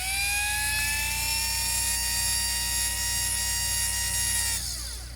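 Rebuilt 1976 Cadillac Eldorado power window motor running under power on the bench, a steady whining electric drone with a slowly rising pitch that cuts off abruptly near the end, loud and close with no talk.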